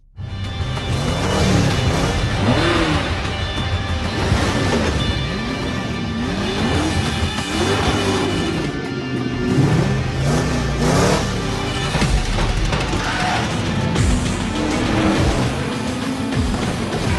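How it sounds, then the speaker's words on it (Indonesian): Race car engines roar and rev continuously, with rising and falling pitch as the cars accelerate, loud and up close the whole way. "Masing-masing pembalap mulai menyalakan mesin mobilnya sambil mengatur nafas,"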